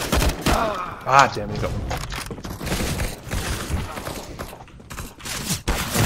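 Rapid gunfire rattles in a casual Counter-Strike: Global Offensive deathmatch, dense bursts of shots mixed with game effects, while a player talks over the action.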